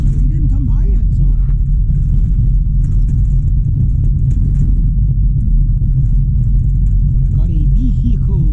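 A small silver car drives over a rough, potholed winter road, giving a loud, constant low rumble and road roar with jolts throughout, and a person talks over the noise.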